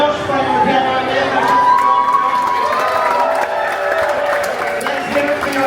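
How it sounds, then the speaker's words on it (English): A crowd aboard a Disney Cruise Line ship applauds and cheers for a pianist, a loud, continuous mix of clapping, whoops and shouting voices, including children, with chatter running through it. "Let's have a big round of applause for Josh playing the piano over there."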